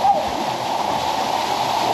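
Takuri-Takuri Falls in General Fullon, San Remigio, Antique, pours in a steady broadband rush of falling water, continuous and fairly loud with no breaks across the whole stretch.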